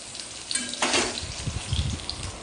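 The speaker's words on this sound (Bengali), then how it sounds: "আমি এর মধ্যে মাছটাকে ছেড়ে দেবো আর মাছটাকে সুন্দর করে ভেজে নেব লো ফ্লেমে" Katla fish pieces frying in hot oil in a kadai over a low flame, a steady close sizzle with a brief louder burst and some faint scraping and clinks of a spatula, no talking.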